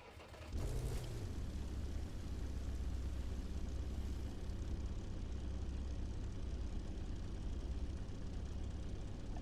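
In The Crew 2 on PS4 Pro, an aircraft engine cranks to life after a brief silence, then settles into a steady, loud, low propeller drone that holds without a break.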